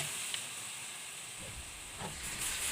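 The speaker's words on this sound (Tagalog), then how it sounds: "Gisa-gisa muna tayo ng manok" Chicken sautéing in a pan until lightly browned, a constant soft hiss of frying with a few faint bumps and stirs, fairly quiet and close.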